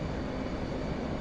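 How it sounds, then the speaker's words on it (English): A steady, loud engine drone from an airplane in the DCS flight simulator, a continuous even roar with no voices. "Oh, it's an airplane."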